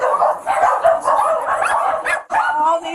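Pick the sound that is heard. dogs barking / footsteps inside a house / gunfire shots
dogs barking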